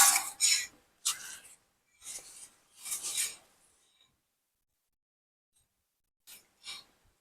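Brake pad rubbing on the front wheel of a 1995 Mercedes E300 as it is turned by hand, repeated raspy scraping bursts in an uneven rhythm, close up, then a pause and two fainter rubs.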